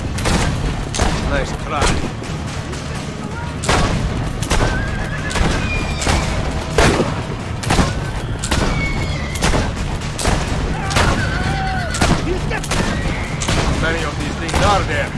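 Gunfire in the Assassin's Creed Brotherhood video game, sharp shots cracking out over constant battle noise with horses neighing and hooves clopping, and voices calling out between the bursts.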